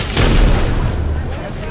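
A Bangalore smoke launcher fires in Apex Legends with a deep, muffled boom followed by a fading rumble, and players' voices can be heard around it.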